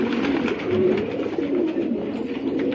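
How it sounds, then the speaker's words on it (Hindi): Several pigeons coo continuously up close, a soft, throaty burbling that rolls on without pause. "भाइयों आज ये कबूतर को नाम रखा है नरो को"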